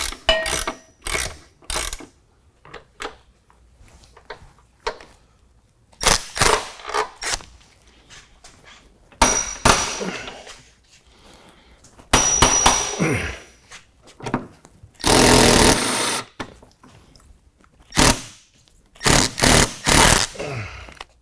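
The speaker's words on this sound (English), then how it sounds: "The back two body mount bolts we'll want to remove." Loud, close mechanical ratcheting and whirring as body mount bolts are removed from a 2019 Jeep Wrangler JL, coming in repeated bursts of a second or two with quiet gaps between.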